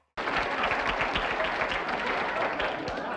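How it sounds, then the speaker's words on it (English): A studio audience at The Carol Burnett Show breaks into applause all at once, a dense, loud and steady clatter of many hands clapping that carries on without pause. "And she clapped for it"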